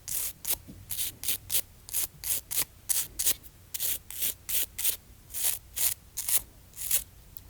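Brisk back-and-forth scrubbing of fingernails with 91% alcohol, about twenty short rhythmic strokes in quick succession, close and fairly loud with no talking.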